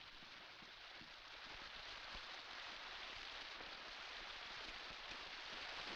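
Rain falling in a scene from a 1952 Italian film, a soft, even wash of hiss with faint patter, quiet and alone.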